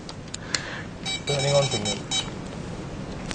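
Short electronic beeps from a handheld EMF ghost meter as it is switched on, faint tonal chirps amid background noise and nearby voices.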